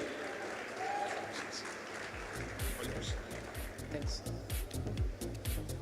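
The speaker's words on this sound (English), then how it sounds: "Big round of applause for Parth Reddy." Audience applause at a development conference in Nizamabad, welcoming student entrepreneur Parth Reddy to the stage; steady clapping fills the room, growing more distinct midway, with a voice faintly under it.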